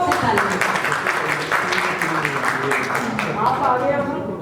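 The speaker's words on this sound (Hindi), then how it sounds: "एक बार फिर से सब्बरवाल जी के लिए जरा जोर से ताली।" Audience applause at a grand opening ceremony for an older adult centre, a dense steady wash of clapping lasting throughout with voices mixed in underneath.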